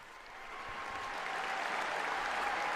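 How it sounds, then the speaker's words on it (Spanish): More than 11,000 young people applaud in the Papp László Budapest Sportaréna at a meeting with the Pope, a warm, continuous roar of clapping that swells and then holds across the vast arena. "Es este aplauso extensivo con el cual y caluroso con el cual reciben"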